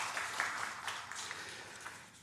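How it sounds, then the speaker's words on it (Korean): A church congregation clapping together during a Sunday worship service, a steady wash of many hands that holds at an even level for about two seconds, with no voices over it. "우리 다 같이 박수 한번 하겠습니다."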